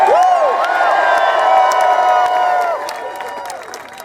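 A large outdoor political rally crowd at Seattle's Gasworks Park cheers loudly with whoops and shrill whistles, the noise easing off toward the end.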